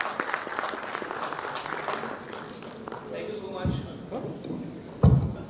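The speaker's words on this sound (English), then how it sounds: "Please join me in giving me a warm round and applause to welcome Mr. Saji V. Matthew to the stage." Audience applause at an HR-EHS conference in Vadodara, welcoming a speaker onto the stage; a moderate, steady clapping runs under a nearby voice before fading, with a sharp thump near the end.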